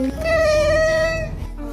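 A pet cat calls out toward distant birds with a single drawn-out, fairly loud meow of about a second, heard close and on its own.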